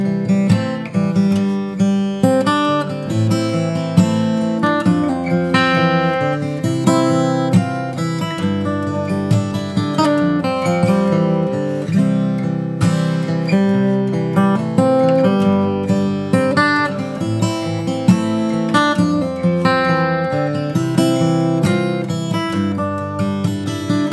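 A solo guitar arrangement of a song's verse, melody woven into strummed and picked chords, plays continuously and fairly loud with a steady rhythm and no voices.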